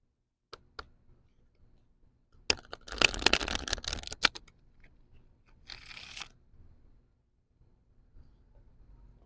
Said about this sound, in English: Sorry, I gotta get a couple more shuffles in.